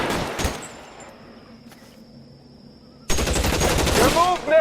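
Gunfire rings out in a shootout in the video game L.A. Noire: a sharp burst at the start, a lull, then loud, sustained heavy fire.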